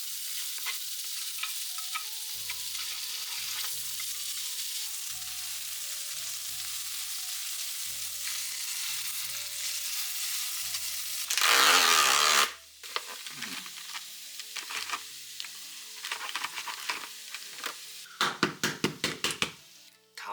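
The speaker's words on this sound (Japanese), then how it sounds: "さっき切ったじゃがいもと玉ねぎを炒めていきます。" Potatoes and onions stir-fry in olive oil with a steady close sizzle, broken by repeated scraping stirs and a loud burst of frying around the middle, then clattering utensil knocks near the end.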